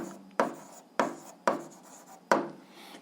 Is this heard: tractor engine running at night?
no